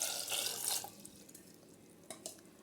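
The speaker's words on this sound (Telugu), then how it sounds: "వాటర్ వేసుకుందాము." Water gushes into a pot for boiling eggs, a short burst of pouring splash that stops abruptly, followed by a couple of faint clinks and drips in a quiet kitchen.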